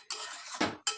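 A spoon scrapes and clinks against a metal pot while mixing chicken with yogurt, three quick close strokes in about a second.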